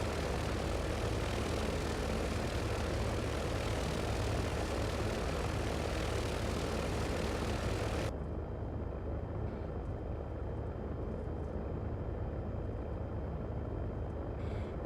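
A Cirrus SR20 taxiing in the X-Plane 11 flight simulator gives a steady, droning propeller engine hum that runs unchanged throughout, loud and continuous, with no talking.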